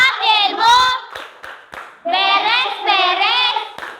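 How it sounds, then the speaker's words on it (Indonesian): A class of sixth-grade primary schoolchildren in an Indonesian classroom claps along to a rhythmic end-of-day chant, loud and close, with two bursts of sung voices and hand claps split by a short pause. "Tepuk pulang sekolah."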